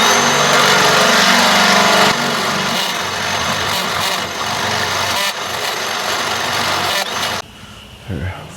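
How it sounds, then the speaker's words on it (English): A loud, continuous power-drill whir runs for several seconds, changing pitch slightly, then drops off sharply near the end, drilling a hole while installing a low-profile crossmember on a Ford Ranger. "What I'm gonna do is just drill a hole."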